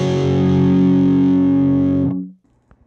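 Electric guitar through a Kyro Audio Dulo preamp pedal with the EQ adjusted, one loud sustained driven chord ringing for about two seconds before being cut off, followed by faint handling noise.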